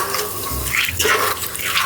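Tap water runs steadily as raw peanuts are washed in a pot before boiling, a continuous splashing pour heard up close with no talk over it.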